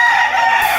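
Rooster crowing at a livestock auction market in Lipa, Batangas, a single loud, close crow cut short.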